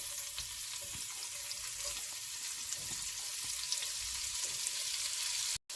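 Finely chopped white onion, a quarter of one, frying in a pan after bacon, giving a steady, even sizzle with faint stirring scrapes, ending in a brief cut-off.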